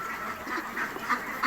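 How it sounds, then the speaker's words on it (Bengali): Ducks quack repeatedly at Hira Mask's duck farm, a flock giving overlapping nasal calls at a moderate distance with no talking. "দেখুন কি সুন্দর সুন্দর হাঁস"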